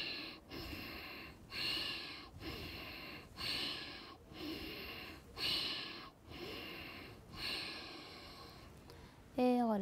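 Deep, slow breaths during a qigong exercise, long airy inhales and exhales repeating in an even rhythm about every second and a half, close and soft, with a voice briefly at the end.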